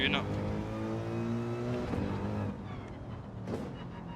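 A race car in Gran Turismo 7 pulls out of a hairpin in first gear, its engine note climbing steadily over about two seconds before the next shift and the pull carries on. A commentator talks over it.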